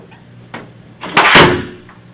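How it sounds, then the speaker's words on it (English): A door being shut indoors: a soft knock, then a louder thudding close with a brief rattle, fairly near and with no talk over it. "Can you close the door, please?"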